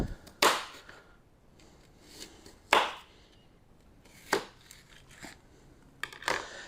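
A knife cuts an apple into four equal parts on a board, producing four separate sharp chopping knocks spaced a couple of seconds apart with quiet handling noise between them.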